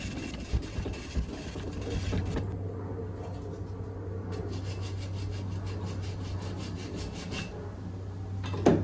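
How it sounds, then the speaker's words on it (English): Steady rasping strokes of a hand saw biting through deer antler, repeated at an even pace over a constant low drone of a plane overhead. "So I'm just going to get those full saw strokes."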